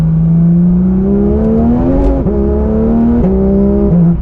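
A Porsche 911 engine pulls hard under acceleration, its loud, close drone climbing in pitch and then dropping sharply at each of several quick upshifts, with no talking over it.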